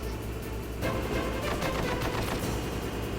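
Rapid bursts of automatic machine gun fire in the video game Metal Gear Solid crackle continuously over a dense background din, starting abruptly after a brief lull, with no voices.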